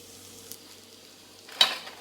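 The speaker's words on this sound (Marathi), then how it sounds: "याच्यामध्ये ड्रायफ्रूट जे केले होते पावडर, त्यांचे तुकडे वगैरे ते घालते कढईमध्ये" Dry fruit powder and chopped dry fruit pieces go into a kadhai for homemade no-sugar ladoo, giving a faint low rustle and then one short, sharp scrape of the spoon against the pan near the end.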